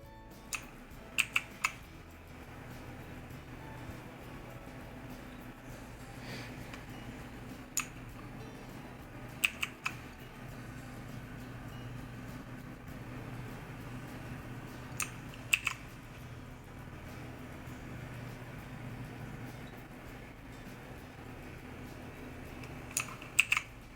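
Keys on a Knup KP-TM010 mechanical gaming keyboard are pressed in sparse clusters of sharp clicks, a few quick taps every several seconds over a quiet room hum, with no one talking.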